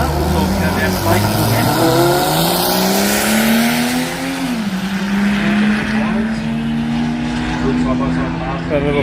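A 4-cylinder Street Compact race car at a drag race jamboree in Brisbane screams through its gears, engine pitch climbing and shifting steadily as it runs down the strip, loud and continuous under a commentator's voice.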